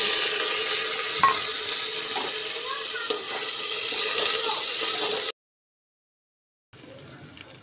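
Chopped potatoes and peas are stirred into onions frying in a pan for pulao, with steady close sizzling and scraping, then a brief silent break before the sizzle resumes.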